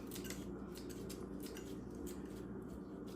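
Small kitchen scissors snip the whiskers and legs off raw shrimp being prepared for Jamaican pepper shrimp, giving repeated quick close cuts over a steady background hum.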